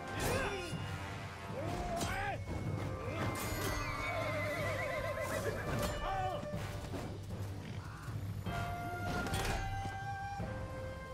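Horses whinny and neigh repeatedly over hoofbeats and clashing blows during a mounted duel in the video game Total War: Three Kingdoms, with a steady low battle drone throughout and no talk.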